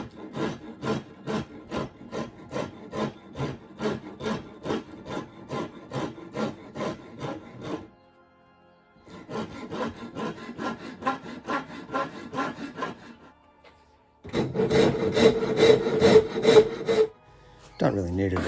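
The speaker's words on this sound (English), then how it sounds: "For rough work, a wood rasp is my tool of choice." Wood rasp shaping a rough wooden part, rapid rhythmic scraping strokes in three bursts separated by short pauses, close and fairly loud with no talking.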